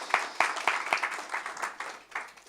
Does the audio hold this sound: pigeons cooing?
no